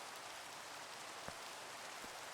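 Constant hiss of rain falling in Minecraft, an even, moderately quiet patter with a couple of faint thuds and no speech.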